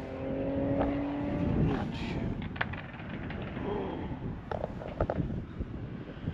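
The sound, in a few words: loud car passing by, sounding like an F1 car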